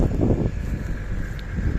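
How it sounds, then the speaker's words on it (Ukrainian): Steady low rumbling buffeting of wind against a microphone outdoors on a farm field during sowing, constant throughout with gusty swells and no clear talk. "Вибачаюсь зразу за вітер."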